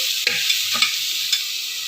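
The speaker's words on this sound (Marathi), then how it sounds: "आले लसूण पेस्ट आणि कांदा छान भाजत आलेला आहे" Onion with ginger-garlic paste frying in a pan, a steady broad sizzle running throughout, with a few soft scraping stir strokes from a spoon, close and fairly loud, no voices.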